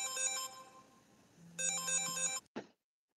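A mobile phone ringtone goes off at a burial in a cemetery, playing a bright electronic melody in two bursts before cutting off abruptly; no one speaks.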